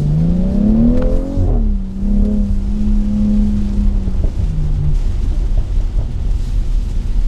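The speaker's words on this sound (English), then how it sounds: "Every time I let off that throttle, you hear this pop, pop, pop, pop." BMW X3 M40i SUV driving in New York City traffic, a loud engine drone rising and settling with a low rumble throughout; the backfire crackle on lift-off isn't clearly separable from the steady engine noise.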